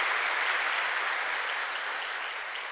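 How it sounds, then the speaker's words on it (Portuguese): A church congregation applauds at a Sunday Mass: dense, steady clapping from many hands that fades slightly toward the end, with no voices over it. "Vamos dar uma salva de palmas para eles"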